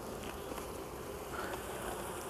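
Buckfast honeybees buzzing steadily at an open hive, a dense continuous hum of many wings close by, with no voices.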